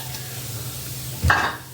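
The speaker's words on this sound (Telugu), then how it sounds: "ఈ కొంచెం ఉల్లిపాయ వేస్తున్నాను ఇప్పుడు దీంట్లో." Sliced onion dropped into hot oil in a pan, hissing and sizzling softly, with a short burst of stirring near the end.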